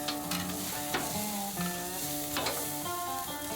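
Costco ribeye steaks sear on a grill, a loud continuous sizzle and crackle with scattered sharp pops close by, with some tonal hum running underneath.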